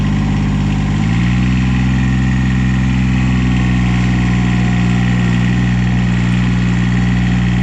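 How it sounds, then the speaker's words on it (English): A Cub Cadet 1772 riding lawn tractor engine idles loudly and steadily nearby, its low rumble shifting pitch slightly near the start, then holding an even drone. "let's hop on the tractor and go for a little ride around."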